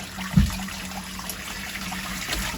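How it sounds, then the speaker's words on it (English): Tap water runs steadily into a plugged basin while a synthetic wig is rinsed, a continuous close hiss and trickle with one soft splash or knock near the start. "Is by taking your plug and filling your basin up"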